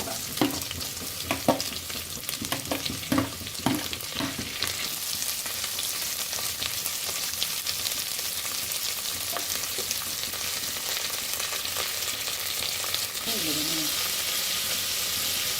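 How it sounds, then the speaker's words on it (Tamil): Chopped onions and garlic sizzle and fry in a pan for tiffin, a steady close hiss with a few clattering stirs early on and faint talk in the background. "நம்ம எடுத்து வச்ச பூண்டையும் சேர்த்துக்கலாம் இப்போ வெங்காயம் கட் பண்ணி வச்சதையும் நம்ம ஆட் பண்ணிக்கலாம்"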